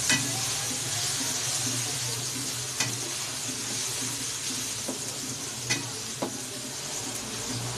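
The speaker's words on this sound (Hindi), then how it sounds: "साथ लहसुन अदरक का पेस्ट ये भी अच्छी तरह भून जाएगा।" Ginger-garlic paste fries in a pan for a chicken tinday dish, giving a steady, close, even sizzle with a few soft clicks and scrapes from stirring throughout.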